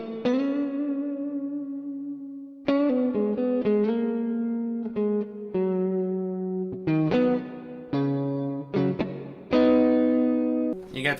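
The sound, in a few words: electric guitar through Guitar Amp Sim 3, high-gain crunch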